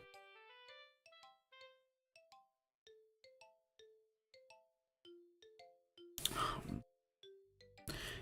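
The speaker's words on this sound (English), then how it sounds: "Oh, there's bells in there." Bell and xylophone-like tones ring out in a gentle, evenly spaced melody from the Doki Doki Literature Club game soundtrack, clear and fairly quiet, with two brief bursts of louder noise near the end.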